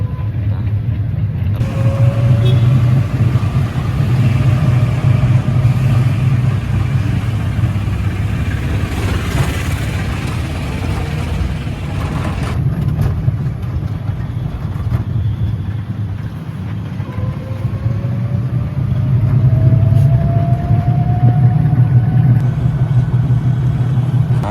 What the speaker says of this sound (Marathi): मग आता आपण ऑटोनं चाललोय असं.